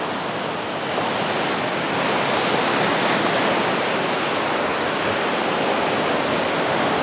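Stormy Black Sea surf rolling onto the central beach at Anapa, a dense, continuous roar of breaking waves with wind, loud and steady throughout with no voices.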